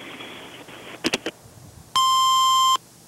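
A single steady electronic beep from an answering machine sounds right after the voicemail greeting ends. It is loud, clear and holds for under a second, with a few faint clicks just before it and no talk.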